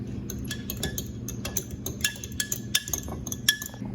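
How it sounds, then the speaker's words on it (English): A utensil stirs a glue and water mixture in a jar, producing irregular sharp clinks and taps against the container, some louder than others, close up with no voices. "Take your stirring utensil and stir."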